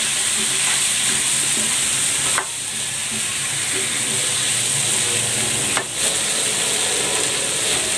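Squash going into a hot pan of sizzling pinakbet, a steady loud fry hiss throughout with two brief sharp dips where pieces drop in, no voices.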